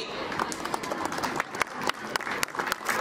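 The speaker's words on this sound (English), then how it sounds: "let's give a huge round of applause for the winners" Scattered applause from a crowd at a school run event for the winners, with sharp individual claps over a busy background murmur, moderately loud and close.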